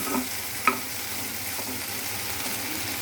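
Potatoes and small onions dry roasting in a pan, a soft steady sizzle with a faint scrape or two of stirring, close by and without talk.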